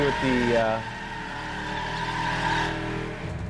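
A Chevrolet Impala in the racing video game The Crew, played with a Thrustmaster TX wheel on Xbox One, whines through a rising engine note with a brief tire squeal, then settles into a steady cruising hum.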